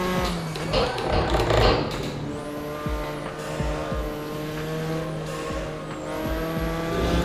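An F4 race car in a racing video game revs hard through turns, with engine pitch rising and falling between gear changes and brief tire squeal, loud and continuous.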